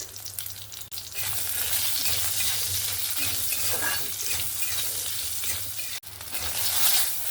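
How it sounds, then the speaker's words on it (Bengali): Eggplant pieces frying in a pan of oil with salt and turmeric, a steady, dense sizzle that holds loud and even throughout, dipping briefly near the end. "দিয়ে বেগুনগুলোকে ভেজে নেব"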